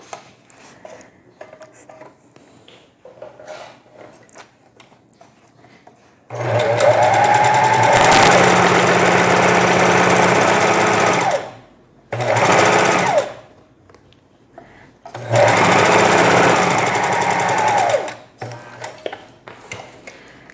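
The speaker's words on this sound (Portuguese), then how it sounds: "agora vou passar a costura em volta da almofada toda" A sewing machine stitches a seam around a fabric cushion in three loud bursts of rapid mechanical whirring, each a few seconds long, separated by short pauses with quiet handling sounds.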